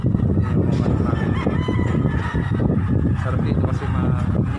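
Chickens and a rooster at a Filipino backyard poultry farm, with dense continuous clucking and crowing close by, mixed with steady background noise throughout.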